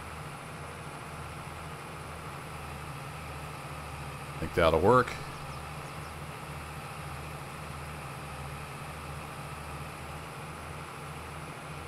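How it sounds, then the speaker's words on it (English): An old tractor engine working hard in second gear in the torque amplifier range at about 2,000 revs in Farming Simulator 22, a steady low droning hum throughout, with someone briefly speaking near the middle. "I love these old tractors. The new tractors are nice and all, but the old ones just sound like they're working hard."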